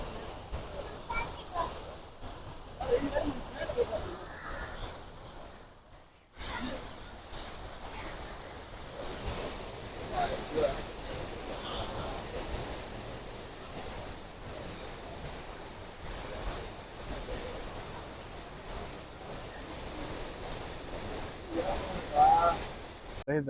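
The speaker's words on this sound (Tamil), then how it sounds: "டேம் காட்டுறேன், இங்க தண்ணி ஃப்ளோ நிறைய இருக்கு." Water flowing heavily at Pechiparai dam, a broad continuous rushing roar mixed with wind buffeting the microphone, with people talking over it at times.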